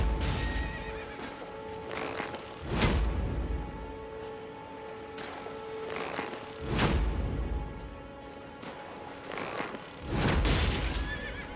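A horse in the Elden Ring video game neighs loudly three times at steady intervals, with hoofbeats and a sustained musical drone beneath the calls.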